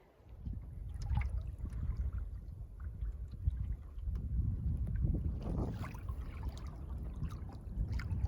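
Steady, gusty wind roars and buffets close by across open Wendigo Lake in Algonquin Park, a low rumbling rush that rises and falls for several seconds with no one speaking.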